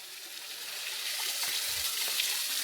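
Water flows steadily at Pitcher Brook Falls, a constant broadband rush of the waterfall heard from nearby, with a few faint thumps and splashes underneath.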